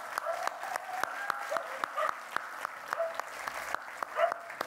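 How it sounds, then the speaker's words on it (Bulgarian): An audience applauds to welcome a new host at a Ratsio evening event, with broad crowd clapping broken by sharp, regular loud claps near the front and a faint voice or two mixed in. "ви моля за аплодисменти"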